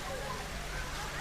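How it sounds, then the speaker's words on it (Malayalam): A park water fountain sprays with a dense, rain-like rush of falling water, continuous and fairly close, while a voice murmurs faintly underneath. "ഇവിടെ ഒരു ഫൗണ്ടൈൻ കൊടുത്തിട്ടുണ്ട്"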